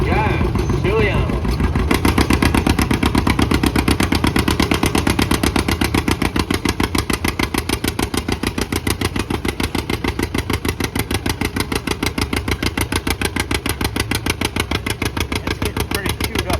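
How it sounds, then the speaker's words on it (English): A John Deere A antique tractor chugs at a tractor pull, its two-cylinder engine thumping in a loud, steady rapid rhythm close by, with an announcer speaking over it. "John Ciliano and his John Deere A."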